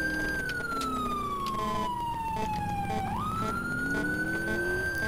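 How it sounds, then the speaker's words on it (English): A police car in the video game LCPDFR wails with its whale siren, a loud continuous tone sliding slowly downward and then sweeping back up, over a low engine hum. "Let's change our siren to the whale."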